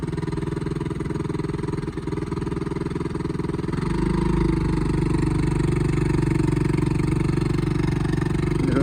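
A boat's engine idles steadily on calm water, a continuous low rumble that grows slightly louder partway through, with people talking nearby.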